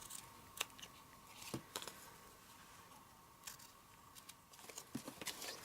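Ribbon scissors snip the trimmed ends of a tied ribbon bow, a scattering of quiet, sharp clicks and cuts spread irregularly over a faint, hissy background, with no talking.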